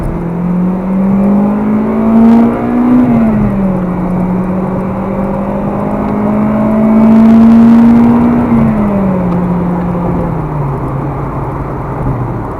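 A 2002 Acura RSX Type S, with an 8,000 RPM redline, revs hard toward the limit while driving, its engine note climbing, easing back and rising again in a loud, close, steady drone with no talk.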